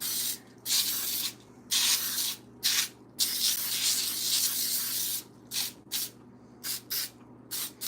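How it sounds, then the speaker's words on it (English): Repeated hissing bursts of Baker's Joy aerosol baking spray sprayed into a pan, several long sprays then shorter quick ones, close and fairly loud over a low steady hum. "So I'm giving this a really good spray with some Baker's Joy."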